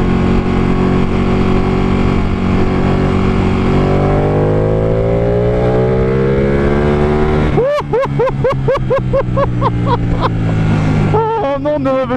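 A Ducati 899 motorcycle in race mode drones at a steady pitch, then rises through several sharp rev sweeps, loud and close, with fast repeated throttle blips near the end.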